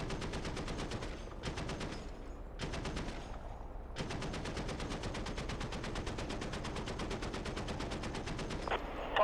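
.50 cal machine gun firing in the DCS World combat game, long rapid bursts of evenly spaced shots with two brief gaps, steady and loud, without talk.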